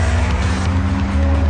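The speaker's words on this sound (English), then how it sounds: "as I go through the revs with the new iVTEC engine and the new Type R" A 2007 Honda Civic Type R with the new i-VTEC engine revving hard on a racetrack, a loud, dense, continuous engine roar with a steady drone and slight tire noise, close and unbroken.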